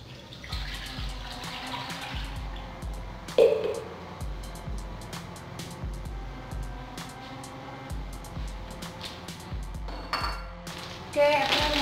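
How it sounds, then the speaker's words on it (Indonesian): Water poured into a container while making a bird's nest drink, a continuous trickling splash with occasional clinks of dishes and a short knock, under someone speaking Indonesian throughout. "Ini aku akan masukkan airnya"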